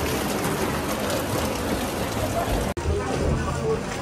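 Heavy rain falls steadily in a broad, dense hiss on a trip to La Union and Baguio, loud and continuous throughout, with one brief cut near the end.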